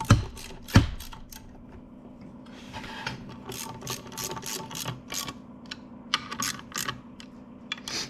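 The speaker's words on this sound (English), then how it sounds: "I'm just going to use my 1/4 inch drive ratchet socket extension here," A 1/4 inch drive ratchet with a socket extension snugs the side plate bolts on a Kohler K91 engine, giving quick bursts of close pawl clicking in short strokes, loud at first, then lighter and repeated.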